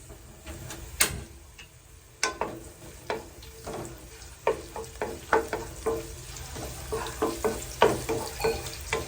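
Onions sautéing in a pan as the start of pork spare ribs, a steady sizzle punctuated by frequent sharp spatula taps and scrapes that come faster toward the end, with no talking.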